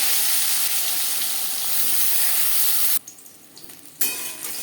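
Eggplant fries in hot oil in a pan for khichuri, making a dense, continuous sizzle that briefly drops quieter near the end before surging back.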